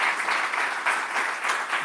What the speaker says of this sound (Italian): Giuliano Razzoli, vi chiedo un applauso ancora per lui